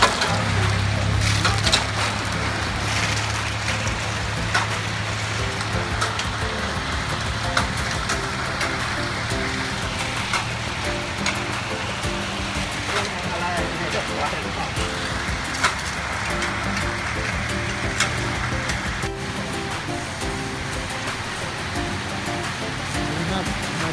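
Rain patters steadily and continuously during a concrete floor pour, a dense hiss with occasional sharper drips and knocks, with a low mechanical hum underneath.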